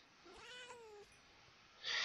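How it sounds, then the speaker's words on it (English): A single drawn-out cat meow in a Minecraft modded game (FTB Unleashed), rising then falling over about a second, followed by quiet and a burst of bright noise at the end. "Stupid cat, get out of it."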